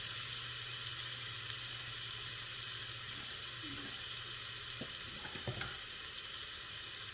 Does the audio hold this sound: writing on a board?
no